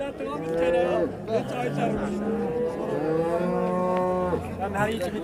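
Several drawn-out moos from a pregnant cow at a livestock market in Van, Turkey, loud and close, following one another with short gaps, over a steady background murmur.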